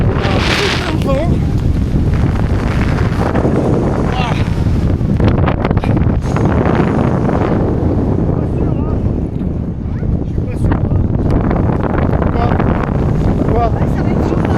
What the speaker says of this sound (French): On a plein de vent.